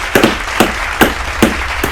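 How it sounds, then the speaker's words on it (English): Hand claps recorded close up, four sharp claps in a steady rhythm about every 0.4 seconds, each a bright, loud smack ringing briefly over a hum of room noise. "Clap it up."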